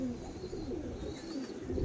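Andhra pigeons coo in a loft, a steady run of low, soft cooing calls repeating close by over constant background noise.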